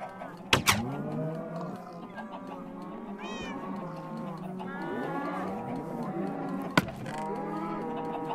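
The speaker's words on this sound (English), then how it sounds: "Cows." Cows in the Minecraft video game moo several times in a row, with drawn-out, wavering low calls that overlap and fill the clip. Two sharp clicks cut in near the start and one more near the end.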